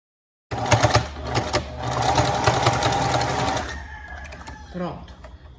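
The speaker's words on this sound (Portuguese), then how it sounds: "já vou pespontar o primeiro vinco aqui" A sewing machine stitches a 3D fabric face mask in one loud, close, continuous run of rapid rhythmic needle clatter, then stops, followed by brief quieter handling sounds.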